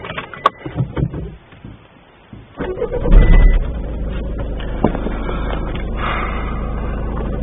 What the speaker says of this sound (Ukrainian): Пробую завести.